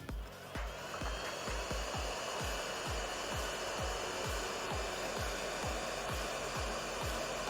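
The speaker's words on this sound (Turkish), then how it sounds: "Evet şimdi havyamı çalıştırıyorum." Hot air blowing from a JCD 8898 hot air rework soldering station, a steady close whooshing hiss with a rapid regular low ticking underneath, running continuously throughout.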